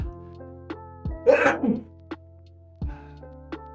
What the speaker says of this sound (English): these sneezes kill me